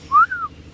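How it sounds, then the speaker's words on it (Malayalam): In a Wayanad cardamom plantation in Kerala, a bird gives a single short, clear whistled call that rises and then falls, close and alone. "ആ കിളി കരയണ സൗണ്ട്"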